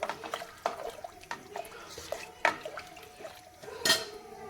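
A spoon scrapes and clinks against a metal pot while pulao with coriander is stirred, giving faint, irregular taps and scrapes with brief pauses.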